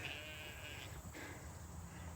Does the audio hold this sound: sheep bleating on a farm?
yes